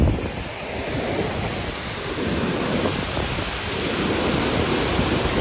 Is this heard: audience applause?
no